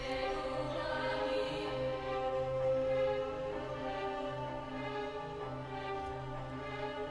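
Orchestral staccato strings sample, treated with reverb and an EQ that trims the low end, playing a steady sustained harmonic texture with a pulsing rhythm throughout, full and continuous with no voices.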